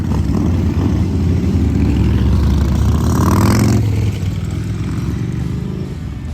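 Motorcycles ride off at the Bikes, Blues and BBQ rally with a loud, close, continuous engine rumble that swells, then drops to a steadier lower drone partway through.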